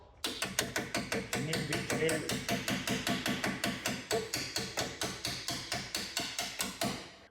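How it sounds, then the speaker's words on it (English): Steady, evenly spaced light hammer taps on a metal bolt during rear arm replacement on a Porsche 718, about four per second, close and crisp, continuing for several seconds. "Light taps with the hammer to get it through."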